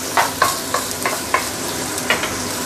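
Nasi goreng, Indonesian fried rice, sizzles in a pan while it is stir-fried and seasoned with light soy sauce, with a steady frying hiss and several sharp spatula scrapes and knocks at irregular intervals.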